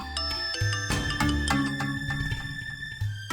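A melodic phone ringtone plays a short tune of bright, layered tones, fairly close and alone, with no talking.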